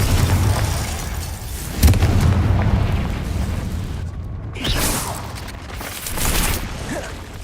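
Fiery Confringo blasting spells in Hogwarts Legacy, a series of loud booming explosions and crackling bursts in quick succession, heavy low rumble between hits, no voices.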